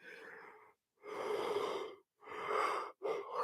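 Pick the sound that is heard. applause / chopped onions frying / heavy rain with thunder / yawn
yawn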